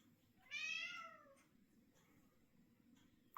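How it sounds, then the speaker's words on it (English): A domestic cat lets out one drawn-out, upset meow at moderate distance, rising then falling over about a second, followed by quiet room tone and a faint click. "my cat's upset with my dog"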